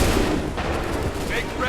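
Musket volley fire in the Assassin's Creed game at the 1775 Battle of Lexington and Concord, a dense, continuous crackle of gunshots with a booming low rumble, under shouted commands.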